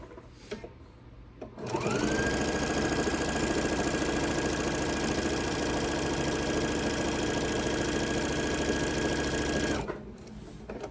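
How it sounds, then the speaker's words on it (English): A sewing machine stitching a tree skirt starts up and runs at a steady fast whir for about eight seconds, close and loud, then stops, with no talk. "And I probably slowed my machine down just a little bit too much for me, so I speeded it up just a little bit more."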